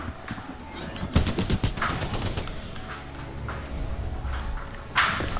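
Rapid gunfire bursts in the shooter game Titanfall 2 aimed at wildlife, a quick rattling volley of shots followed by quieter ambient noise and another sharp burst near the end.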